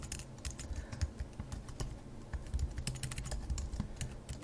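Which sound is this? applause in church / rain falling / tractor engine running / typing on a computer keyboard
typing on a computer keyboard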